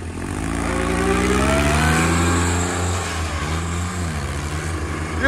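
A small tractor engine revving hard during a stunt, a loud sustained roar that rises, then dips and wavers as the throttle changes.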